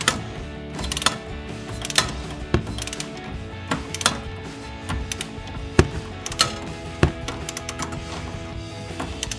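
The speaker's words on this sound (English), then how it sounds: "Now using a 15mm on either side, we're going to torque this down as well." A 15mm ratchet wrench clicks in short bursts while tightening a bolt on a 1994-2004 Mustang front lower control arm, giving close, crisp ratcheting with occasional sharper metal knocks and brief pauses.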